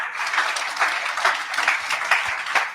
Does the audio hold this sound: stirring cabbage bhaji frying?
no